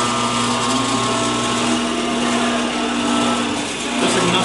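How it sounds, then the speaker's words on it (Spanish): An electric motor on a lab control panel, fed by a variable-speed motor drive, spins with a steady, close whine and a constant tonal hum that holds for the whole stretch. "damos marcha y el motor comienza a girar"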